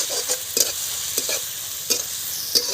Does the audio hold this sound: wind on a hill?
no